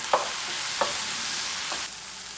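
Baby bella mushrooms with coconut aminos sauteing in a pan, giving a steady close sizzle with three soft spatula clicks spaced through it before the sizzle drops slightly at the end.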